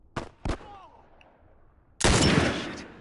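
Gunfire in The Last of Us video game: two sharp, loud shots in quick succession, a short lull, then a sustained, dense burst of firing that continues to the end.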